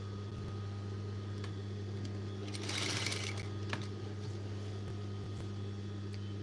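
Sewing machine stitching a baby girl's shirt runs steadily, with a constant motor hum throughout and a brief louder burst of stitching near the middle, close and alone with no talk.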